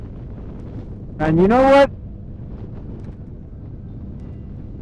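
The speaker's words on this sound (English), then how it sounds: "It's windy" Wind blows outdoors, a steady low rumble of buffeting against the microphone throughout, with someone briefly talking over it near the start.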